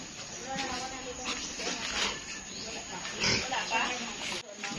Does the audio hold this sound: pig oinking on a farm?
yes